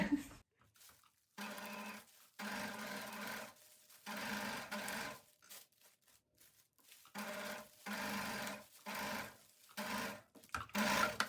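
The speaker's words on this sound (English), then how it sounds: "Straight stitch all the way through the layers, keeping my pleats flat." Sewing machine straight-stitching through pleated fabric layers in repeated bursts, each run of rapid mechanical clatter lasting a second or so, separated by short pauses; close and fairly loud.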